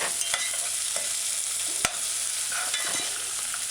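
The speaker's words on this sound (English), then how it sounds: "add your ginger to the sautéing onions and the sautéing diced scallions" Onions, diced scallions and ginger sautéing in a pan for a broad bean and pepper stew, a steady bright sizzle with occasional stirring scrapes and one sharp knock of a utensil.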